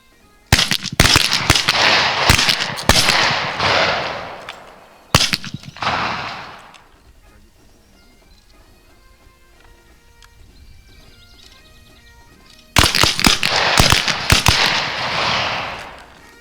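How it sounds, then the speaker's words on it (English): Rifles fired at a military shooting match at 50-yard disappearing targets, heard as loud sharp cracks in two dense bursts separated by a quieter gap, close to the firing line. "At 50 yards, 3 rounds independent, 1 round per exposure."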